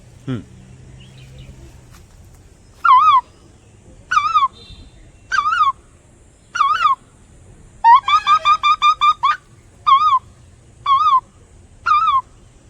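A person imitates an Asian koel's call, repeating a rising whistled phrase about nine times in quick bursts, loud and close, with a fast run of calls midway.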